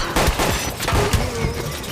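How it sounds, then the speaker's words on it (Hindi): Gunfire in a dramatized horror story about dacoits under attack by bats: a quick burst of several sharp, loud shots and thuds in under two seconds. "भून दो इनको, गोली चलाओ।"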